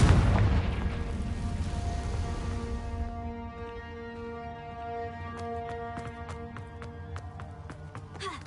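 A Confringo spell explosion in the video game Hogwarts Legacy goes off as a loud, dense boom that fades over about three seconds into a low tonal hum, followed by a run of faint, evenly spaced clicking ticks.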